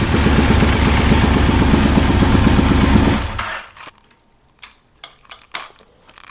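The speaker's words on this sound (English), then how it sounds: "We have a totally running and functioning motorcycle with everything rebuilt" A rebuilt cheap muscle motorcycle bought at auction runs with a loud, close engine roar for about three seconds, then cuts off, leaving quiet with a few scattered clicks and clatters.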